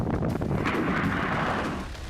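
Explosions in Qatar during an Iranian attack make a dense, continuous rumbling roar. The boom fills the whole short stretch, heavy and loud, and fades slightly at the end.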